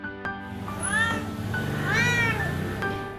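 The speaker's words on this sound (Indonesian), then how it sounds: "kucing kesayangan Kak Anindita." A pet cat meows two or three times, rising and falling drawn-out cries close by, over a steady background hum.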